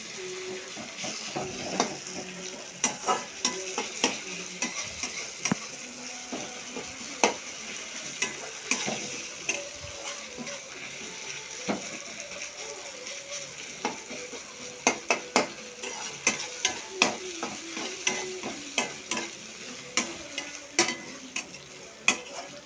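Ginger garlic paste fries and is stirred in hot oil for a cauliflower gravy, a steady crackling sizzle punctuated by frequent sharp ticks and scrapes of the spoon against the pan, close and continuous with no talk.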